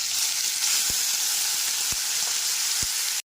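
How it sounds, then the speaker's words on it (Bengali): Tomato paste fries in a hot tempering of spices, a loud, dense, continuous sizzle and hiss close up, broken by three sharp spoon taps against the pan, with no talking. "টমেটো পেস্টটা এক থেকে দু মিনিট কষিয়ে নেওয়ার পর"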